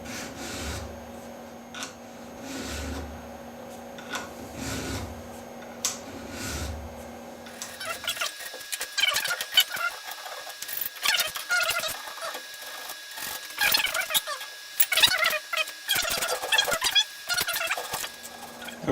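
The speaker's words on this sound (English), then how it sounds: "I'm using a triangle file to chamfer the edges of the slot I cut" A hand-held triangle file rasps against metal, chamfering the edges of a cut slot, with a slow rhythmic stroke at first and then quicker, scratchier strokes, close and fairly quiet.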